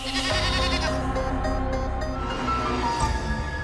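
Goats bleat loudly and close by in a steady, wavering chorus of overlapping cries, with no voices.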